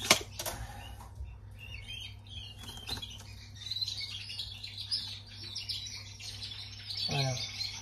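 Goldfinches and crested German canaries chirp in an aviary, a scatter of faint high twitters and tweets with brief wing flutters, soft and somewhat distant over a low steady hum.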